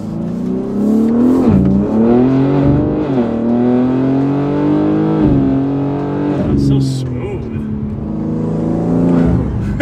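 A BMW G8X engine with a carbon fiber intake and downpipes revs hard through the gears, rising harmonics sweeping upward with a loud intake induction whoosh, close and continuous, briefly dipping between shifts.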